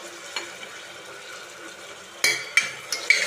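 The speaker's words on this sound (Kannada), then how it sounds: "ಒಂದು ಟೊಮೊಟೊ ಸೇರಿಸ್ಕೊಳ್ತಾ ಇದ್ದೀನಿ" Chopped tomato dropping into onions frying in hot oil, then stirred with a utensil: a soft sizzle broken by several sharp scraping strokes against the pan, close and fairly loud, without any speech.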